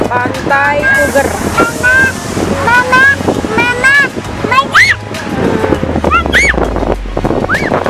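Surf washes steadily onto wide Puger beach across from Nusa Kambangan island, with wind buffeting the microphone and people talking and calling out loudly over the constant roar of the waves.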